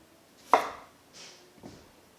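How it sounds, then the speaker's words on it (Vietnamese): A knife chops through sweet potato on a board in a couple of close, soft cuts, one sharper thud followed by quieter strokes, with no talking. "Vân cắt nhỏ ra để hấp cho nhanh chín và chín đều hơn."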